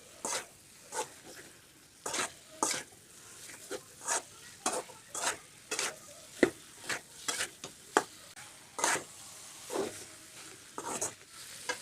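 Beef pieces stirred in a pan of spice paste, a spoon scraping in regular rhythmic strokes roughly once a second over a soft, steady sizzle, close and fairly quiet.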